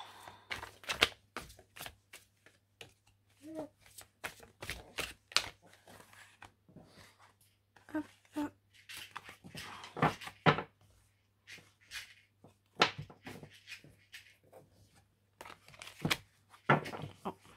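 Tarot cards being shuffled and handled by hand, with repeated soft flicks, slaps and riffles coming in irregular bursts, close and fairly quiet, alongside a steady low hum and no talking.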